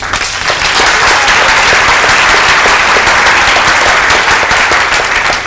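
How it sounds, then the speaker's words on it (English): A large conference audience applauds during a lightning talk session, producing loud, sustained, densely packed clapping that fills the whole stretch with no speech over it. "Can we get a round of applause for these people?"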